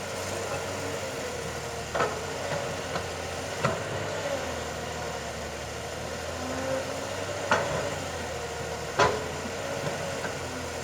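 A Kobelco SK200 Mark 5 excavator, more than 20 years old, digs and scrapes soil with a steady engine drone and occasional sharp knocks of the bucket against the ground.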